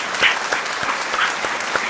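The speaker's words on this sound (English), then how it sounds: "Give Casey a round of applause." Applause from a comedy show audience for comedian Casey Castine, a steady wash of many hands clapping with a few louder swells, filling the whole moment without talk.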